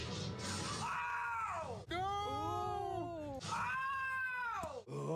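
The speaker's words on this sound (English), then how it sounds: "Again, the goat." A goat in Red Dead Redemption bleats in long, loud, wavering cries, three drawn-out calls in succession with no talking over them.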